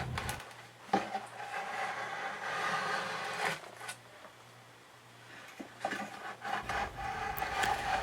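A chisel shapes the back of a guitar neck made from a 2x4, giving scraping, rasping strokes on wood with sharp scratchy bursts and pauses, close and moderately quiet.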